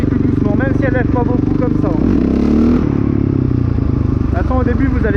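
A motorcycle in second gear for a wheelie, its engine droning loudly and steadily close by, with a brief rise in revs as the clutch is popped, while someone talks over it throughout.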